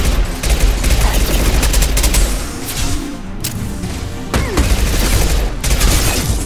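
Heavy, relentless gunfire in Mass Effect 2 combat: dense rapid-fire bursts and sharp blasts pile up loudly and close, with brief gaps before the barrage resumes.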